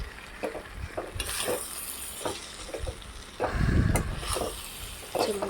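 Soaked lentils are stirred into a hot, sizzling pan, giving a steady fry hiss with repeated scraping strokes of the spoon and a louder burst of sizzle partway through.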